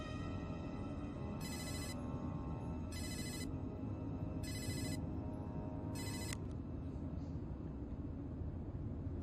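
A telephone rings with an incoming call, sounding four evenly spaced bursts over a steady background hum before falling silent.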